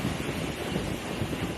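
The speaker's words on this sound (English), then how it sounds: "the waves in the ocean" Steady roar of ocean waves and surf, with wind buffeting the microphone, continuous and fairly loud with no voices.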